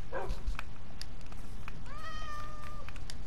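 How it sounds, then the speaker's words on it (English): A cat meows in the Minecraft video game, one drawn-out, wavering meow near the end, with faint game sounds and thumps before it. "Freaking cat, bro."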